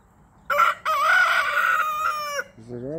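Two roosters crow back and forth in a farmyard standoff, one long loud cock-a-doodle-doo followed by a shorter answering crow close by, with no talking.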